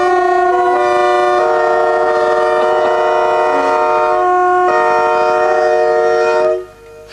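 British Rail trains at Bounds Green sound their horns in loud, close, sustained two-tone blasts that overlap and shift pitch over several seconds before cutting off abruptly.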